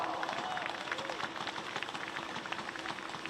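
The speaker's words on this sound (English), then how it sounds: "Let's give him a round of applause." A crowd applauds at a karting speedway, a dense, steady patter of clapping that continues throughout, moderately distant, with a voice speaking over it.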